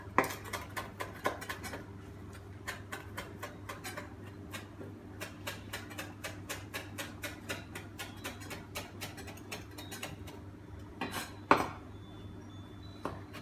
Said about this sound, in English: we're going to chop up some parsley